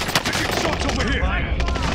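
Rapid automatic gunfire in Call of Duty: Modern Warfare, a loud dense burst of shots with heavy low booms, in a brief battle-royale skirmish.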